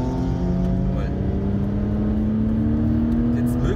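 A car accelerates out of a corner on the Nordschleife, its engine note rising steadily and droning loud from inside the cabin throughout.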